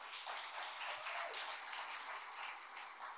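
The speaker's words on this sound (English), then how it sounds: "can we give a hand clap to our first-time guests?" A church congregation clapping for first-time guests during a service, a steady, fairly faint wash of applause from many hands filling the room without pause, no voices standing out.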